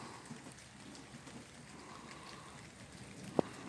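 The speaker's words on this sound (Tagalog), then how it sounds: "Ngayon po ay umuulan pa rin." Steady, faint rain falling outdoors under an overcast sky, a soft continuous patter with one brief sharp drip near the end, no voices.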